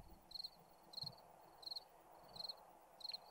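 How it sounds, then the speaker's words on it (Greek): Cicadas in the game 7 Days to Die chirp in short repeated bursts about every two-thirds of a second, a bright rhythmic trill over quiet ambience, with no talking. "Ακούγονται τζιτζίκια."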